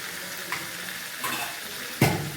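The rest of the onion goes into a pan of gravy chilli chicken and fries with a steady, low sizzle. A few soft stirring scrapes come through, and one sharper clatter of a spoon against the pan lands near the end.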